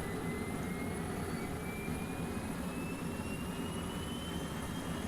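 An F/A-18E Super Hornet in the Arma video game spools its jet engine up during cranking, a steady whine whose tone climbs slowly over a broad continuous roar, fairly faint and without speech.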